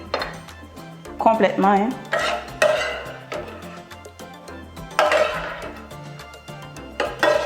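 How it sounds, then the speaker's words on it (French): A fork scrapes and clinks against a bowl while stirring a couscous mixture, with repeated rhythmic strokes at close range and a brief spoken remark over it. "Il faut tourner avec une fourchette, hein, comme je le fais là"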